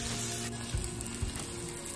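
A vegetable-topped dosa, sprinkled with mint, cooks on a hot pan with oil poured around its edge. It gives a steady, close sizzle with soft crackling and low pops, and there is no talking.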